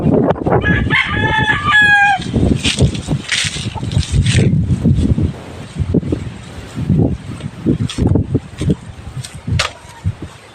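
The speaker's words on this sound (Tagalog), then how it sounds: "Yan yung manok." A rooster crows loudly near the start, followed by chickens clucking and rustling close by with a breezy outdoor background.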